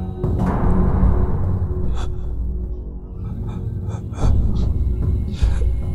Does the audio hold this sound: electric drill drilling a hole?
no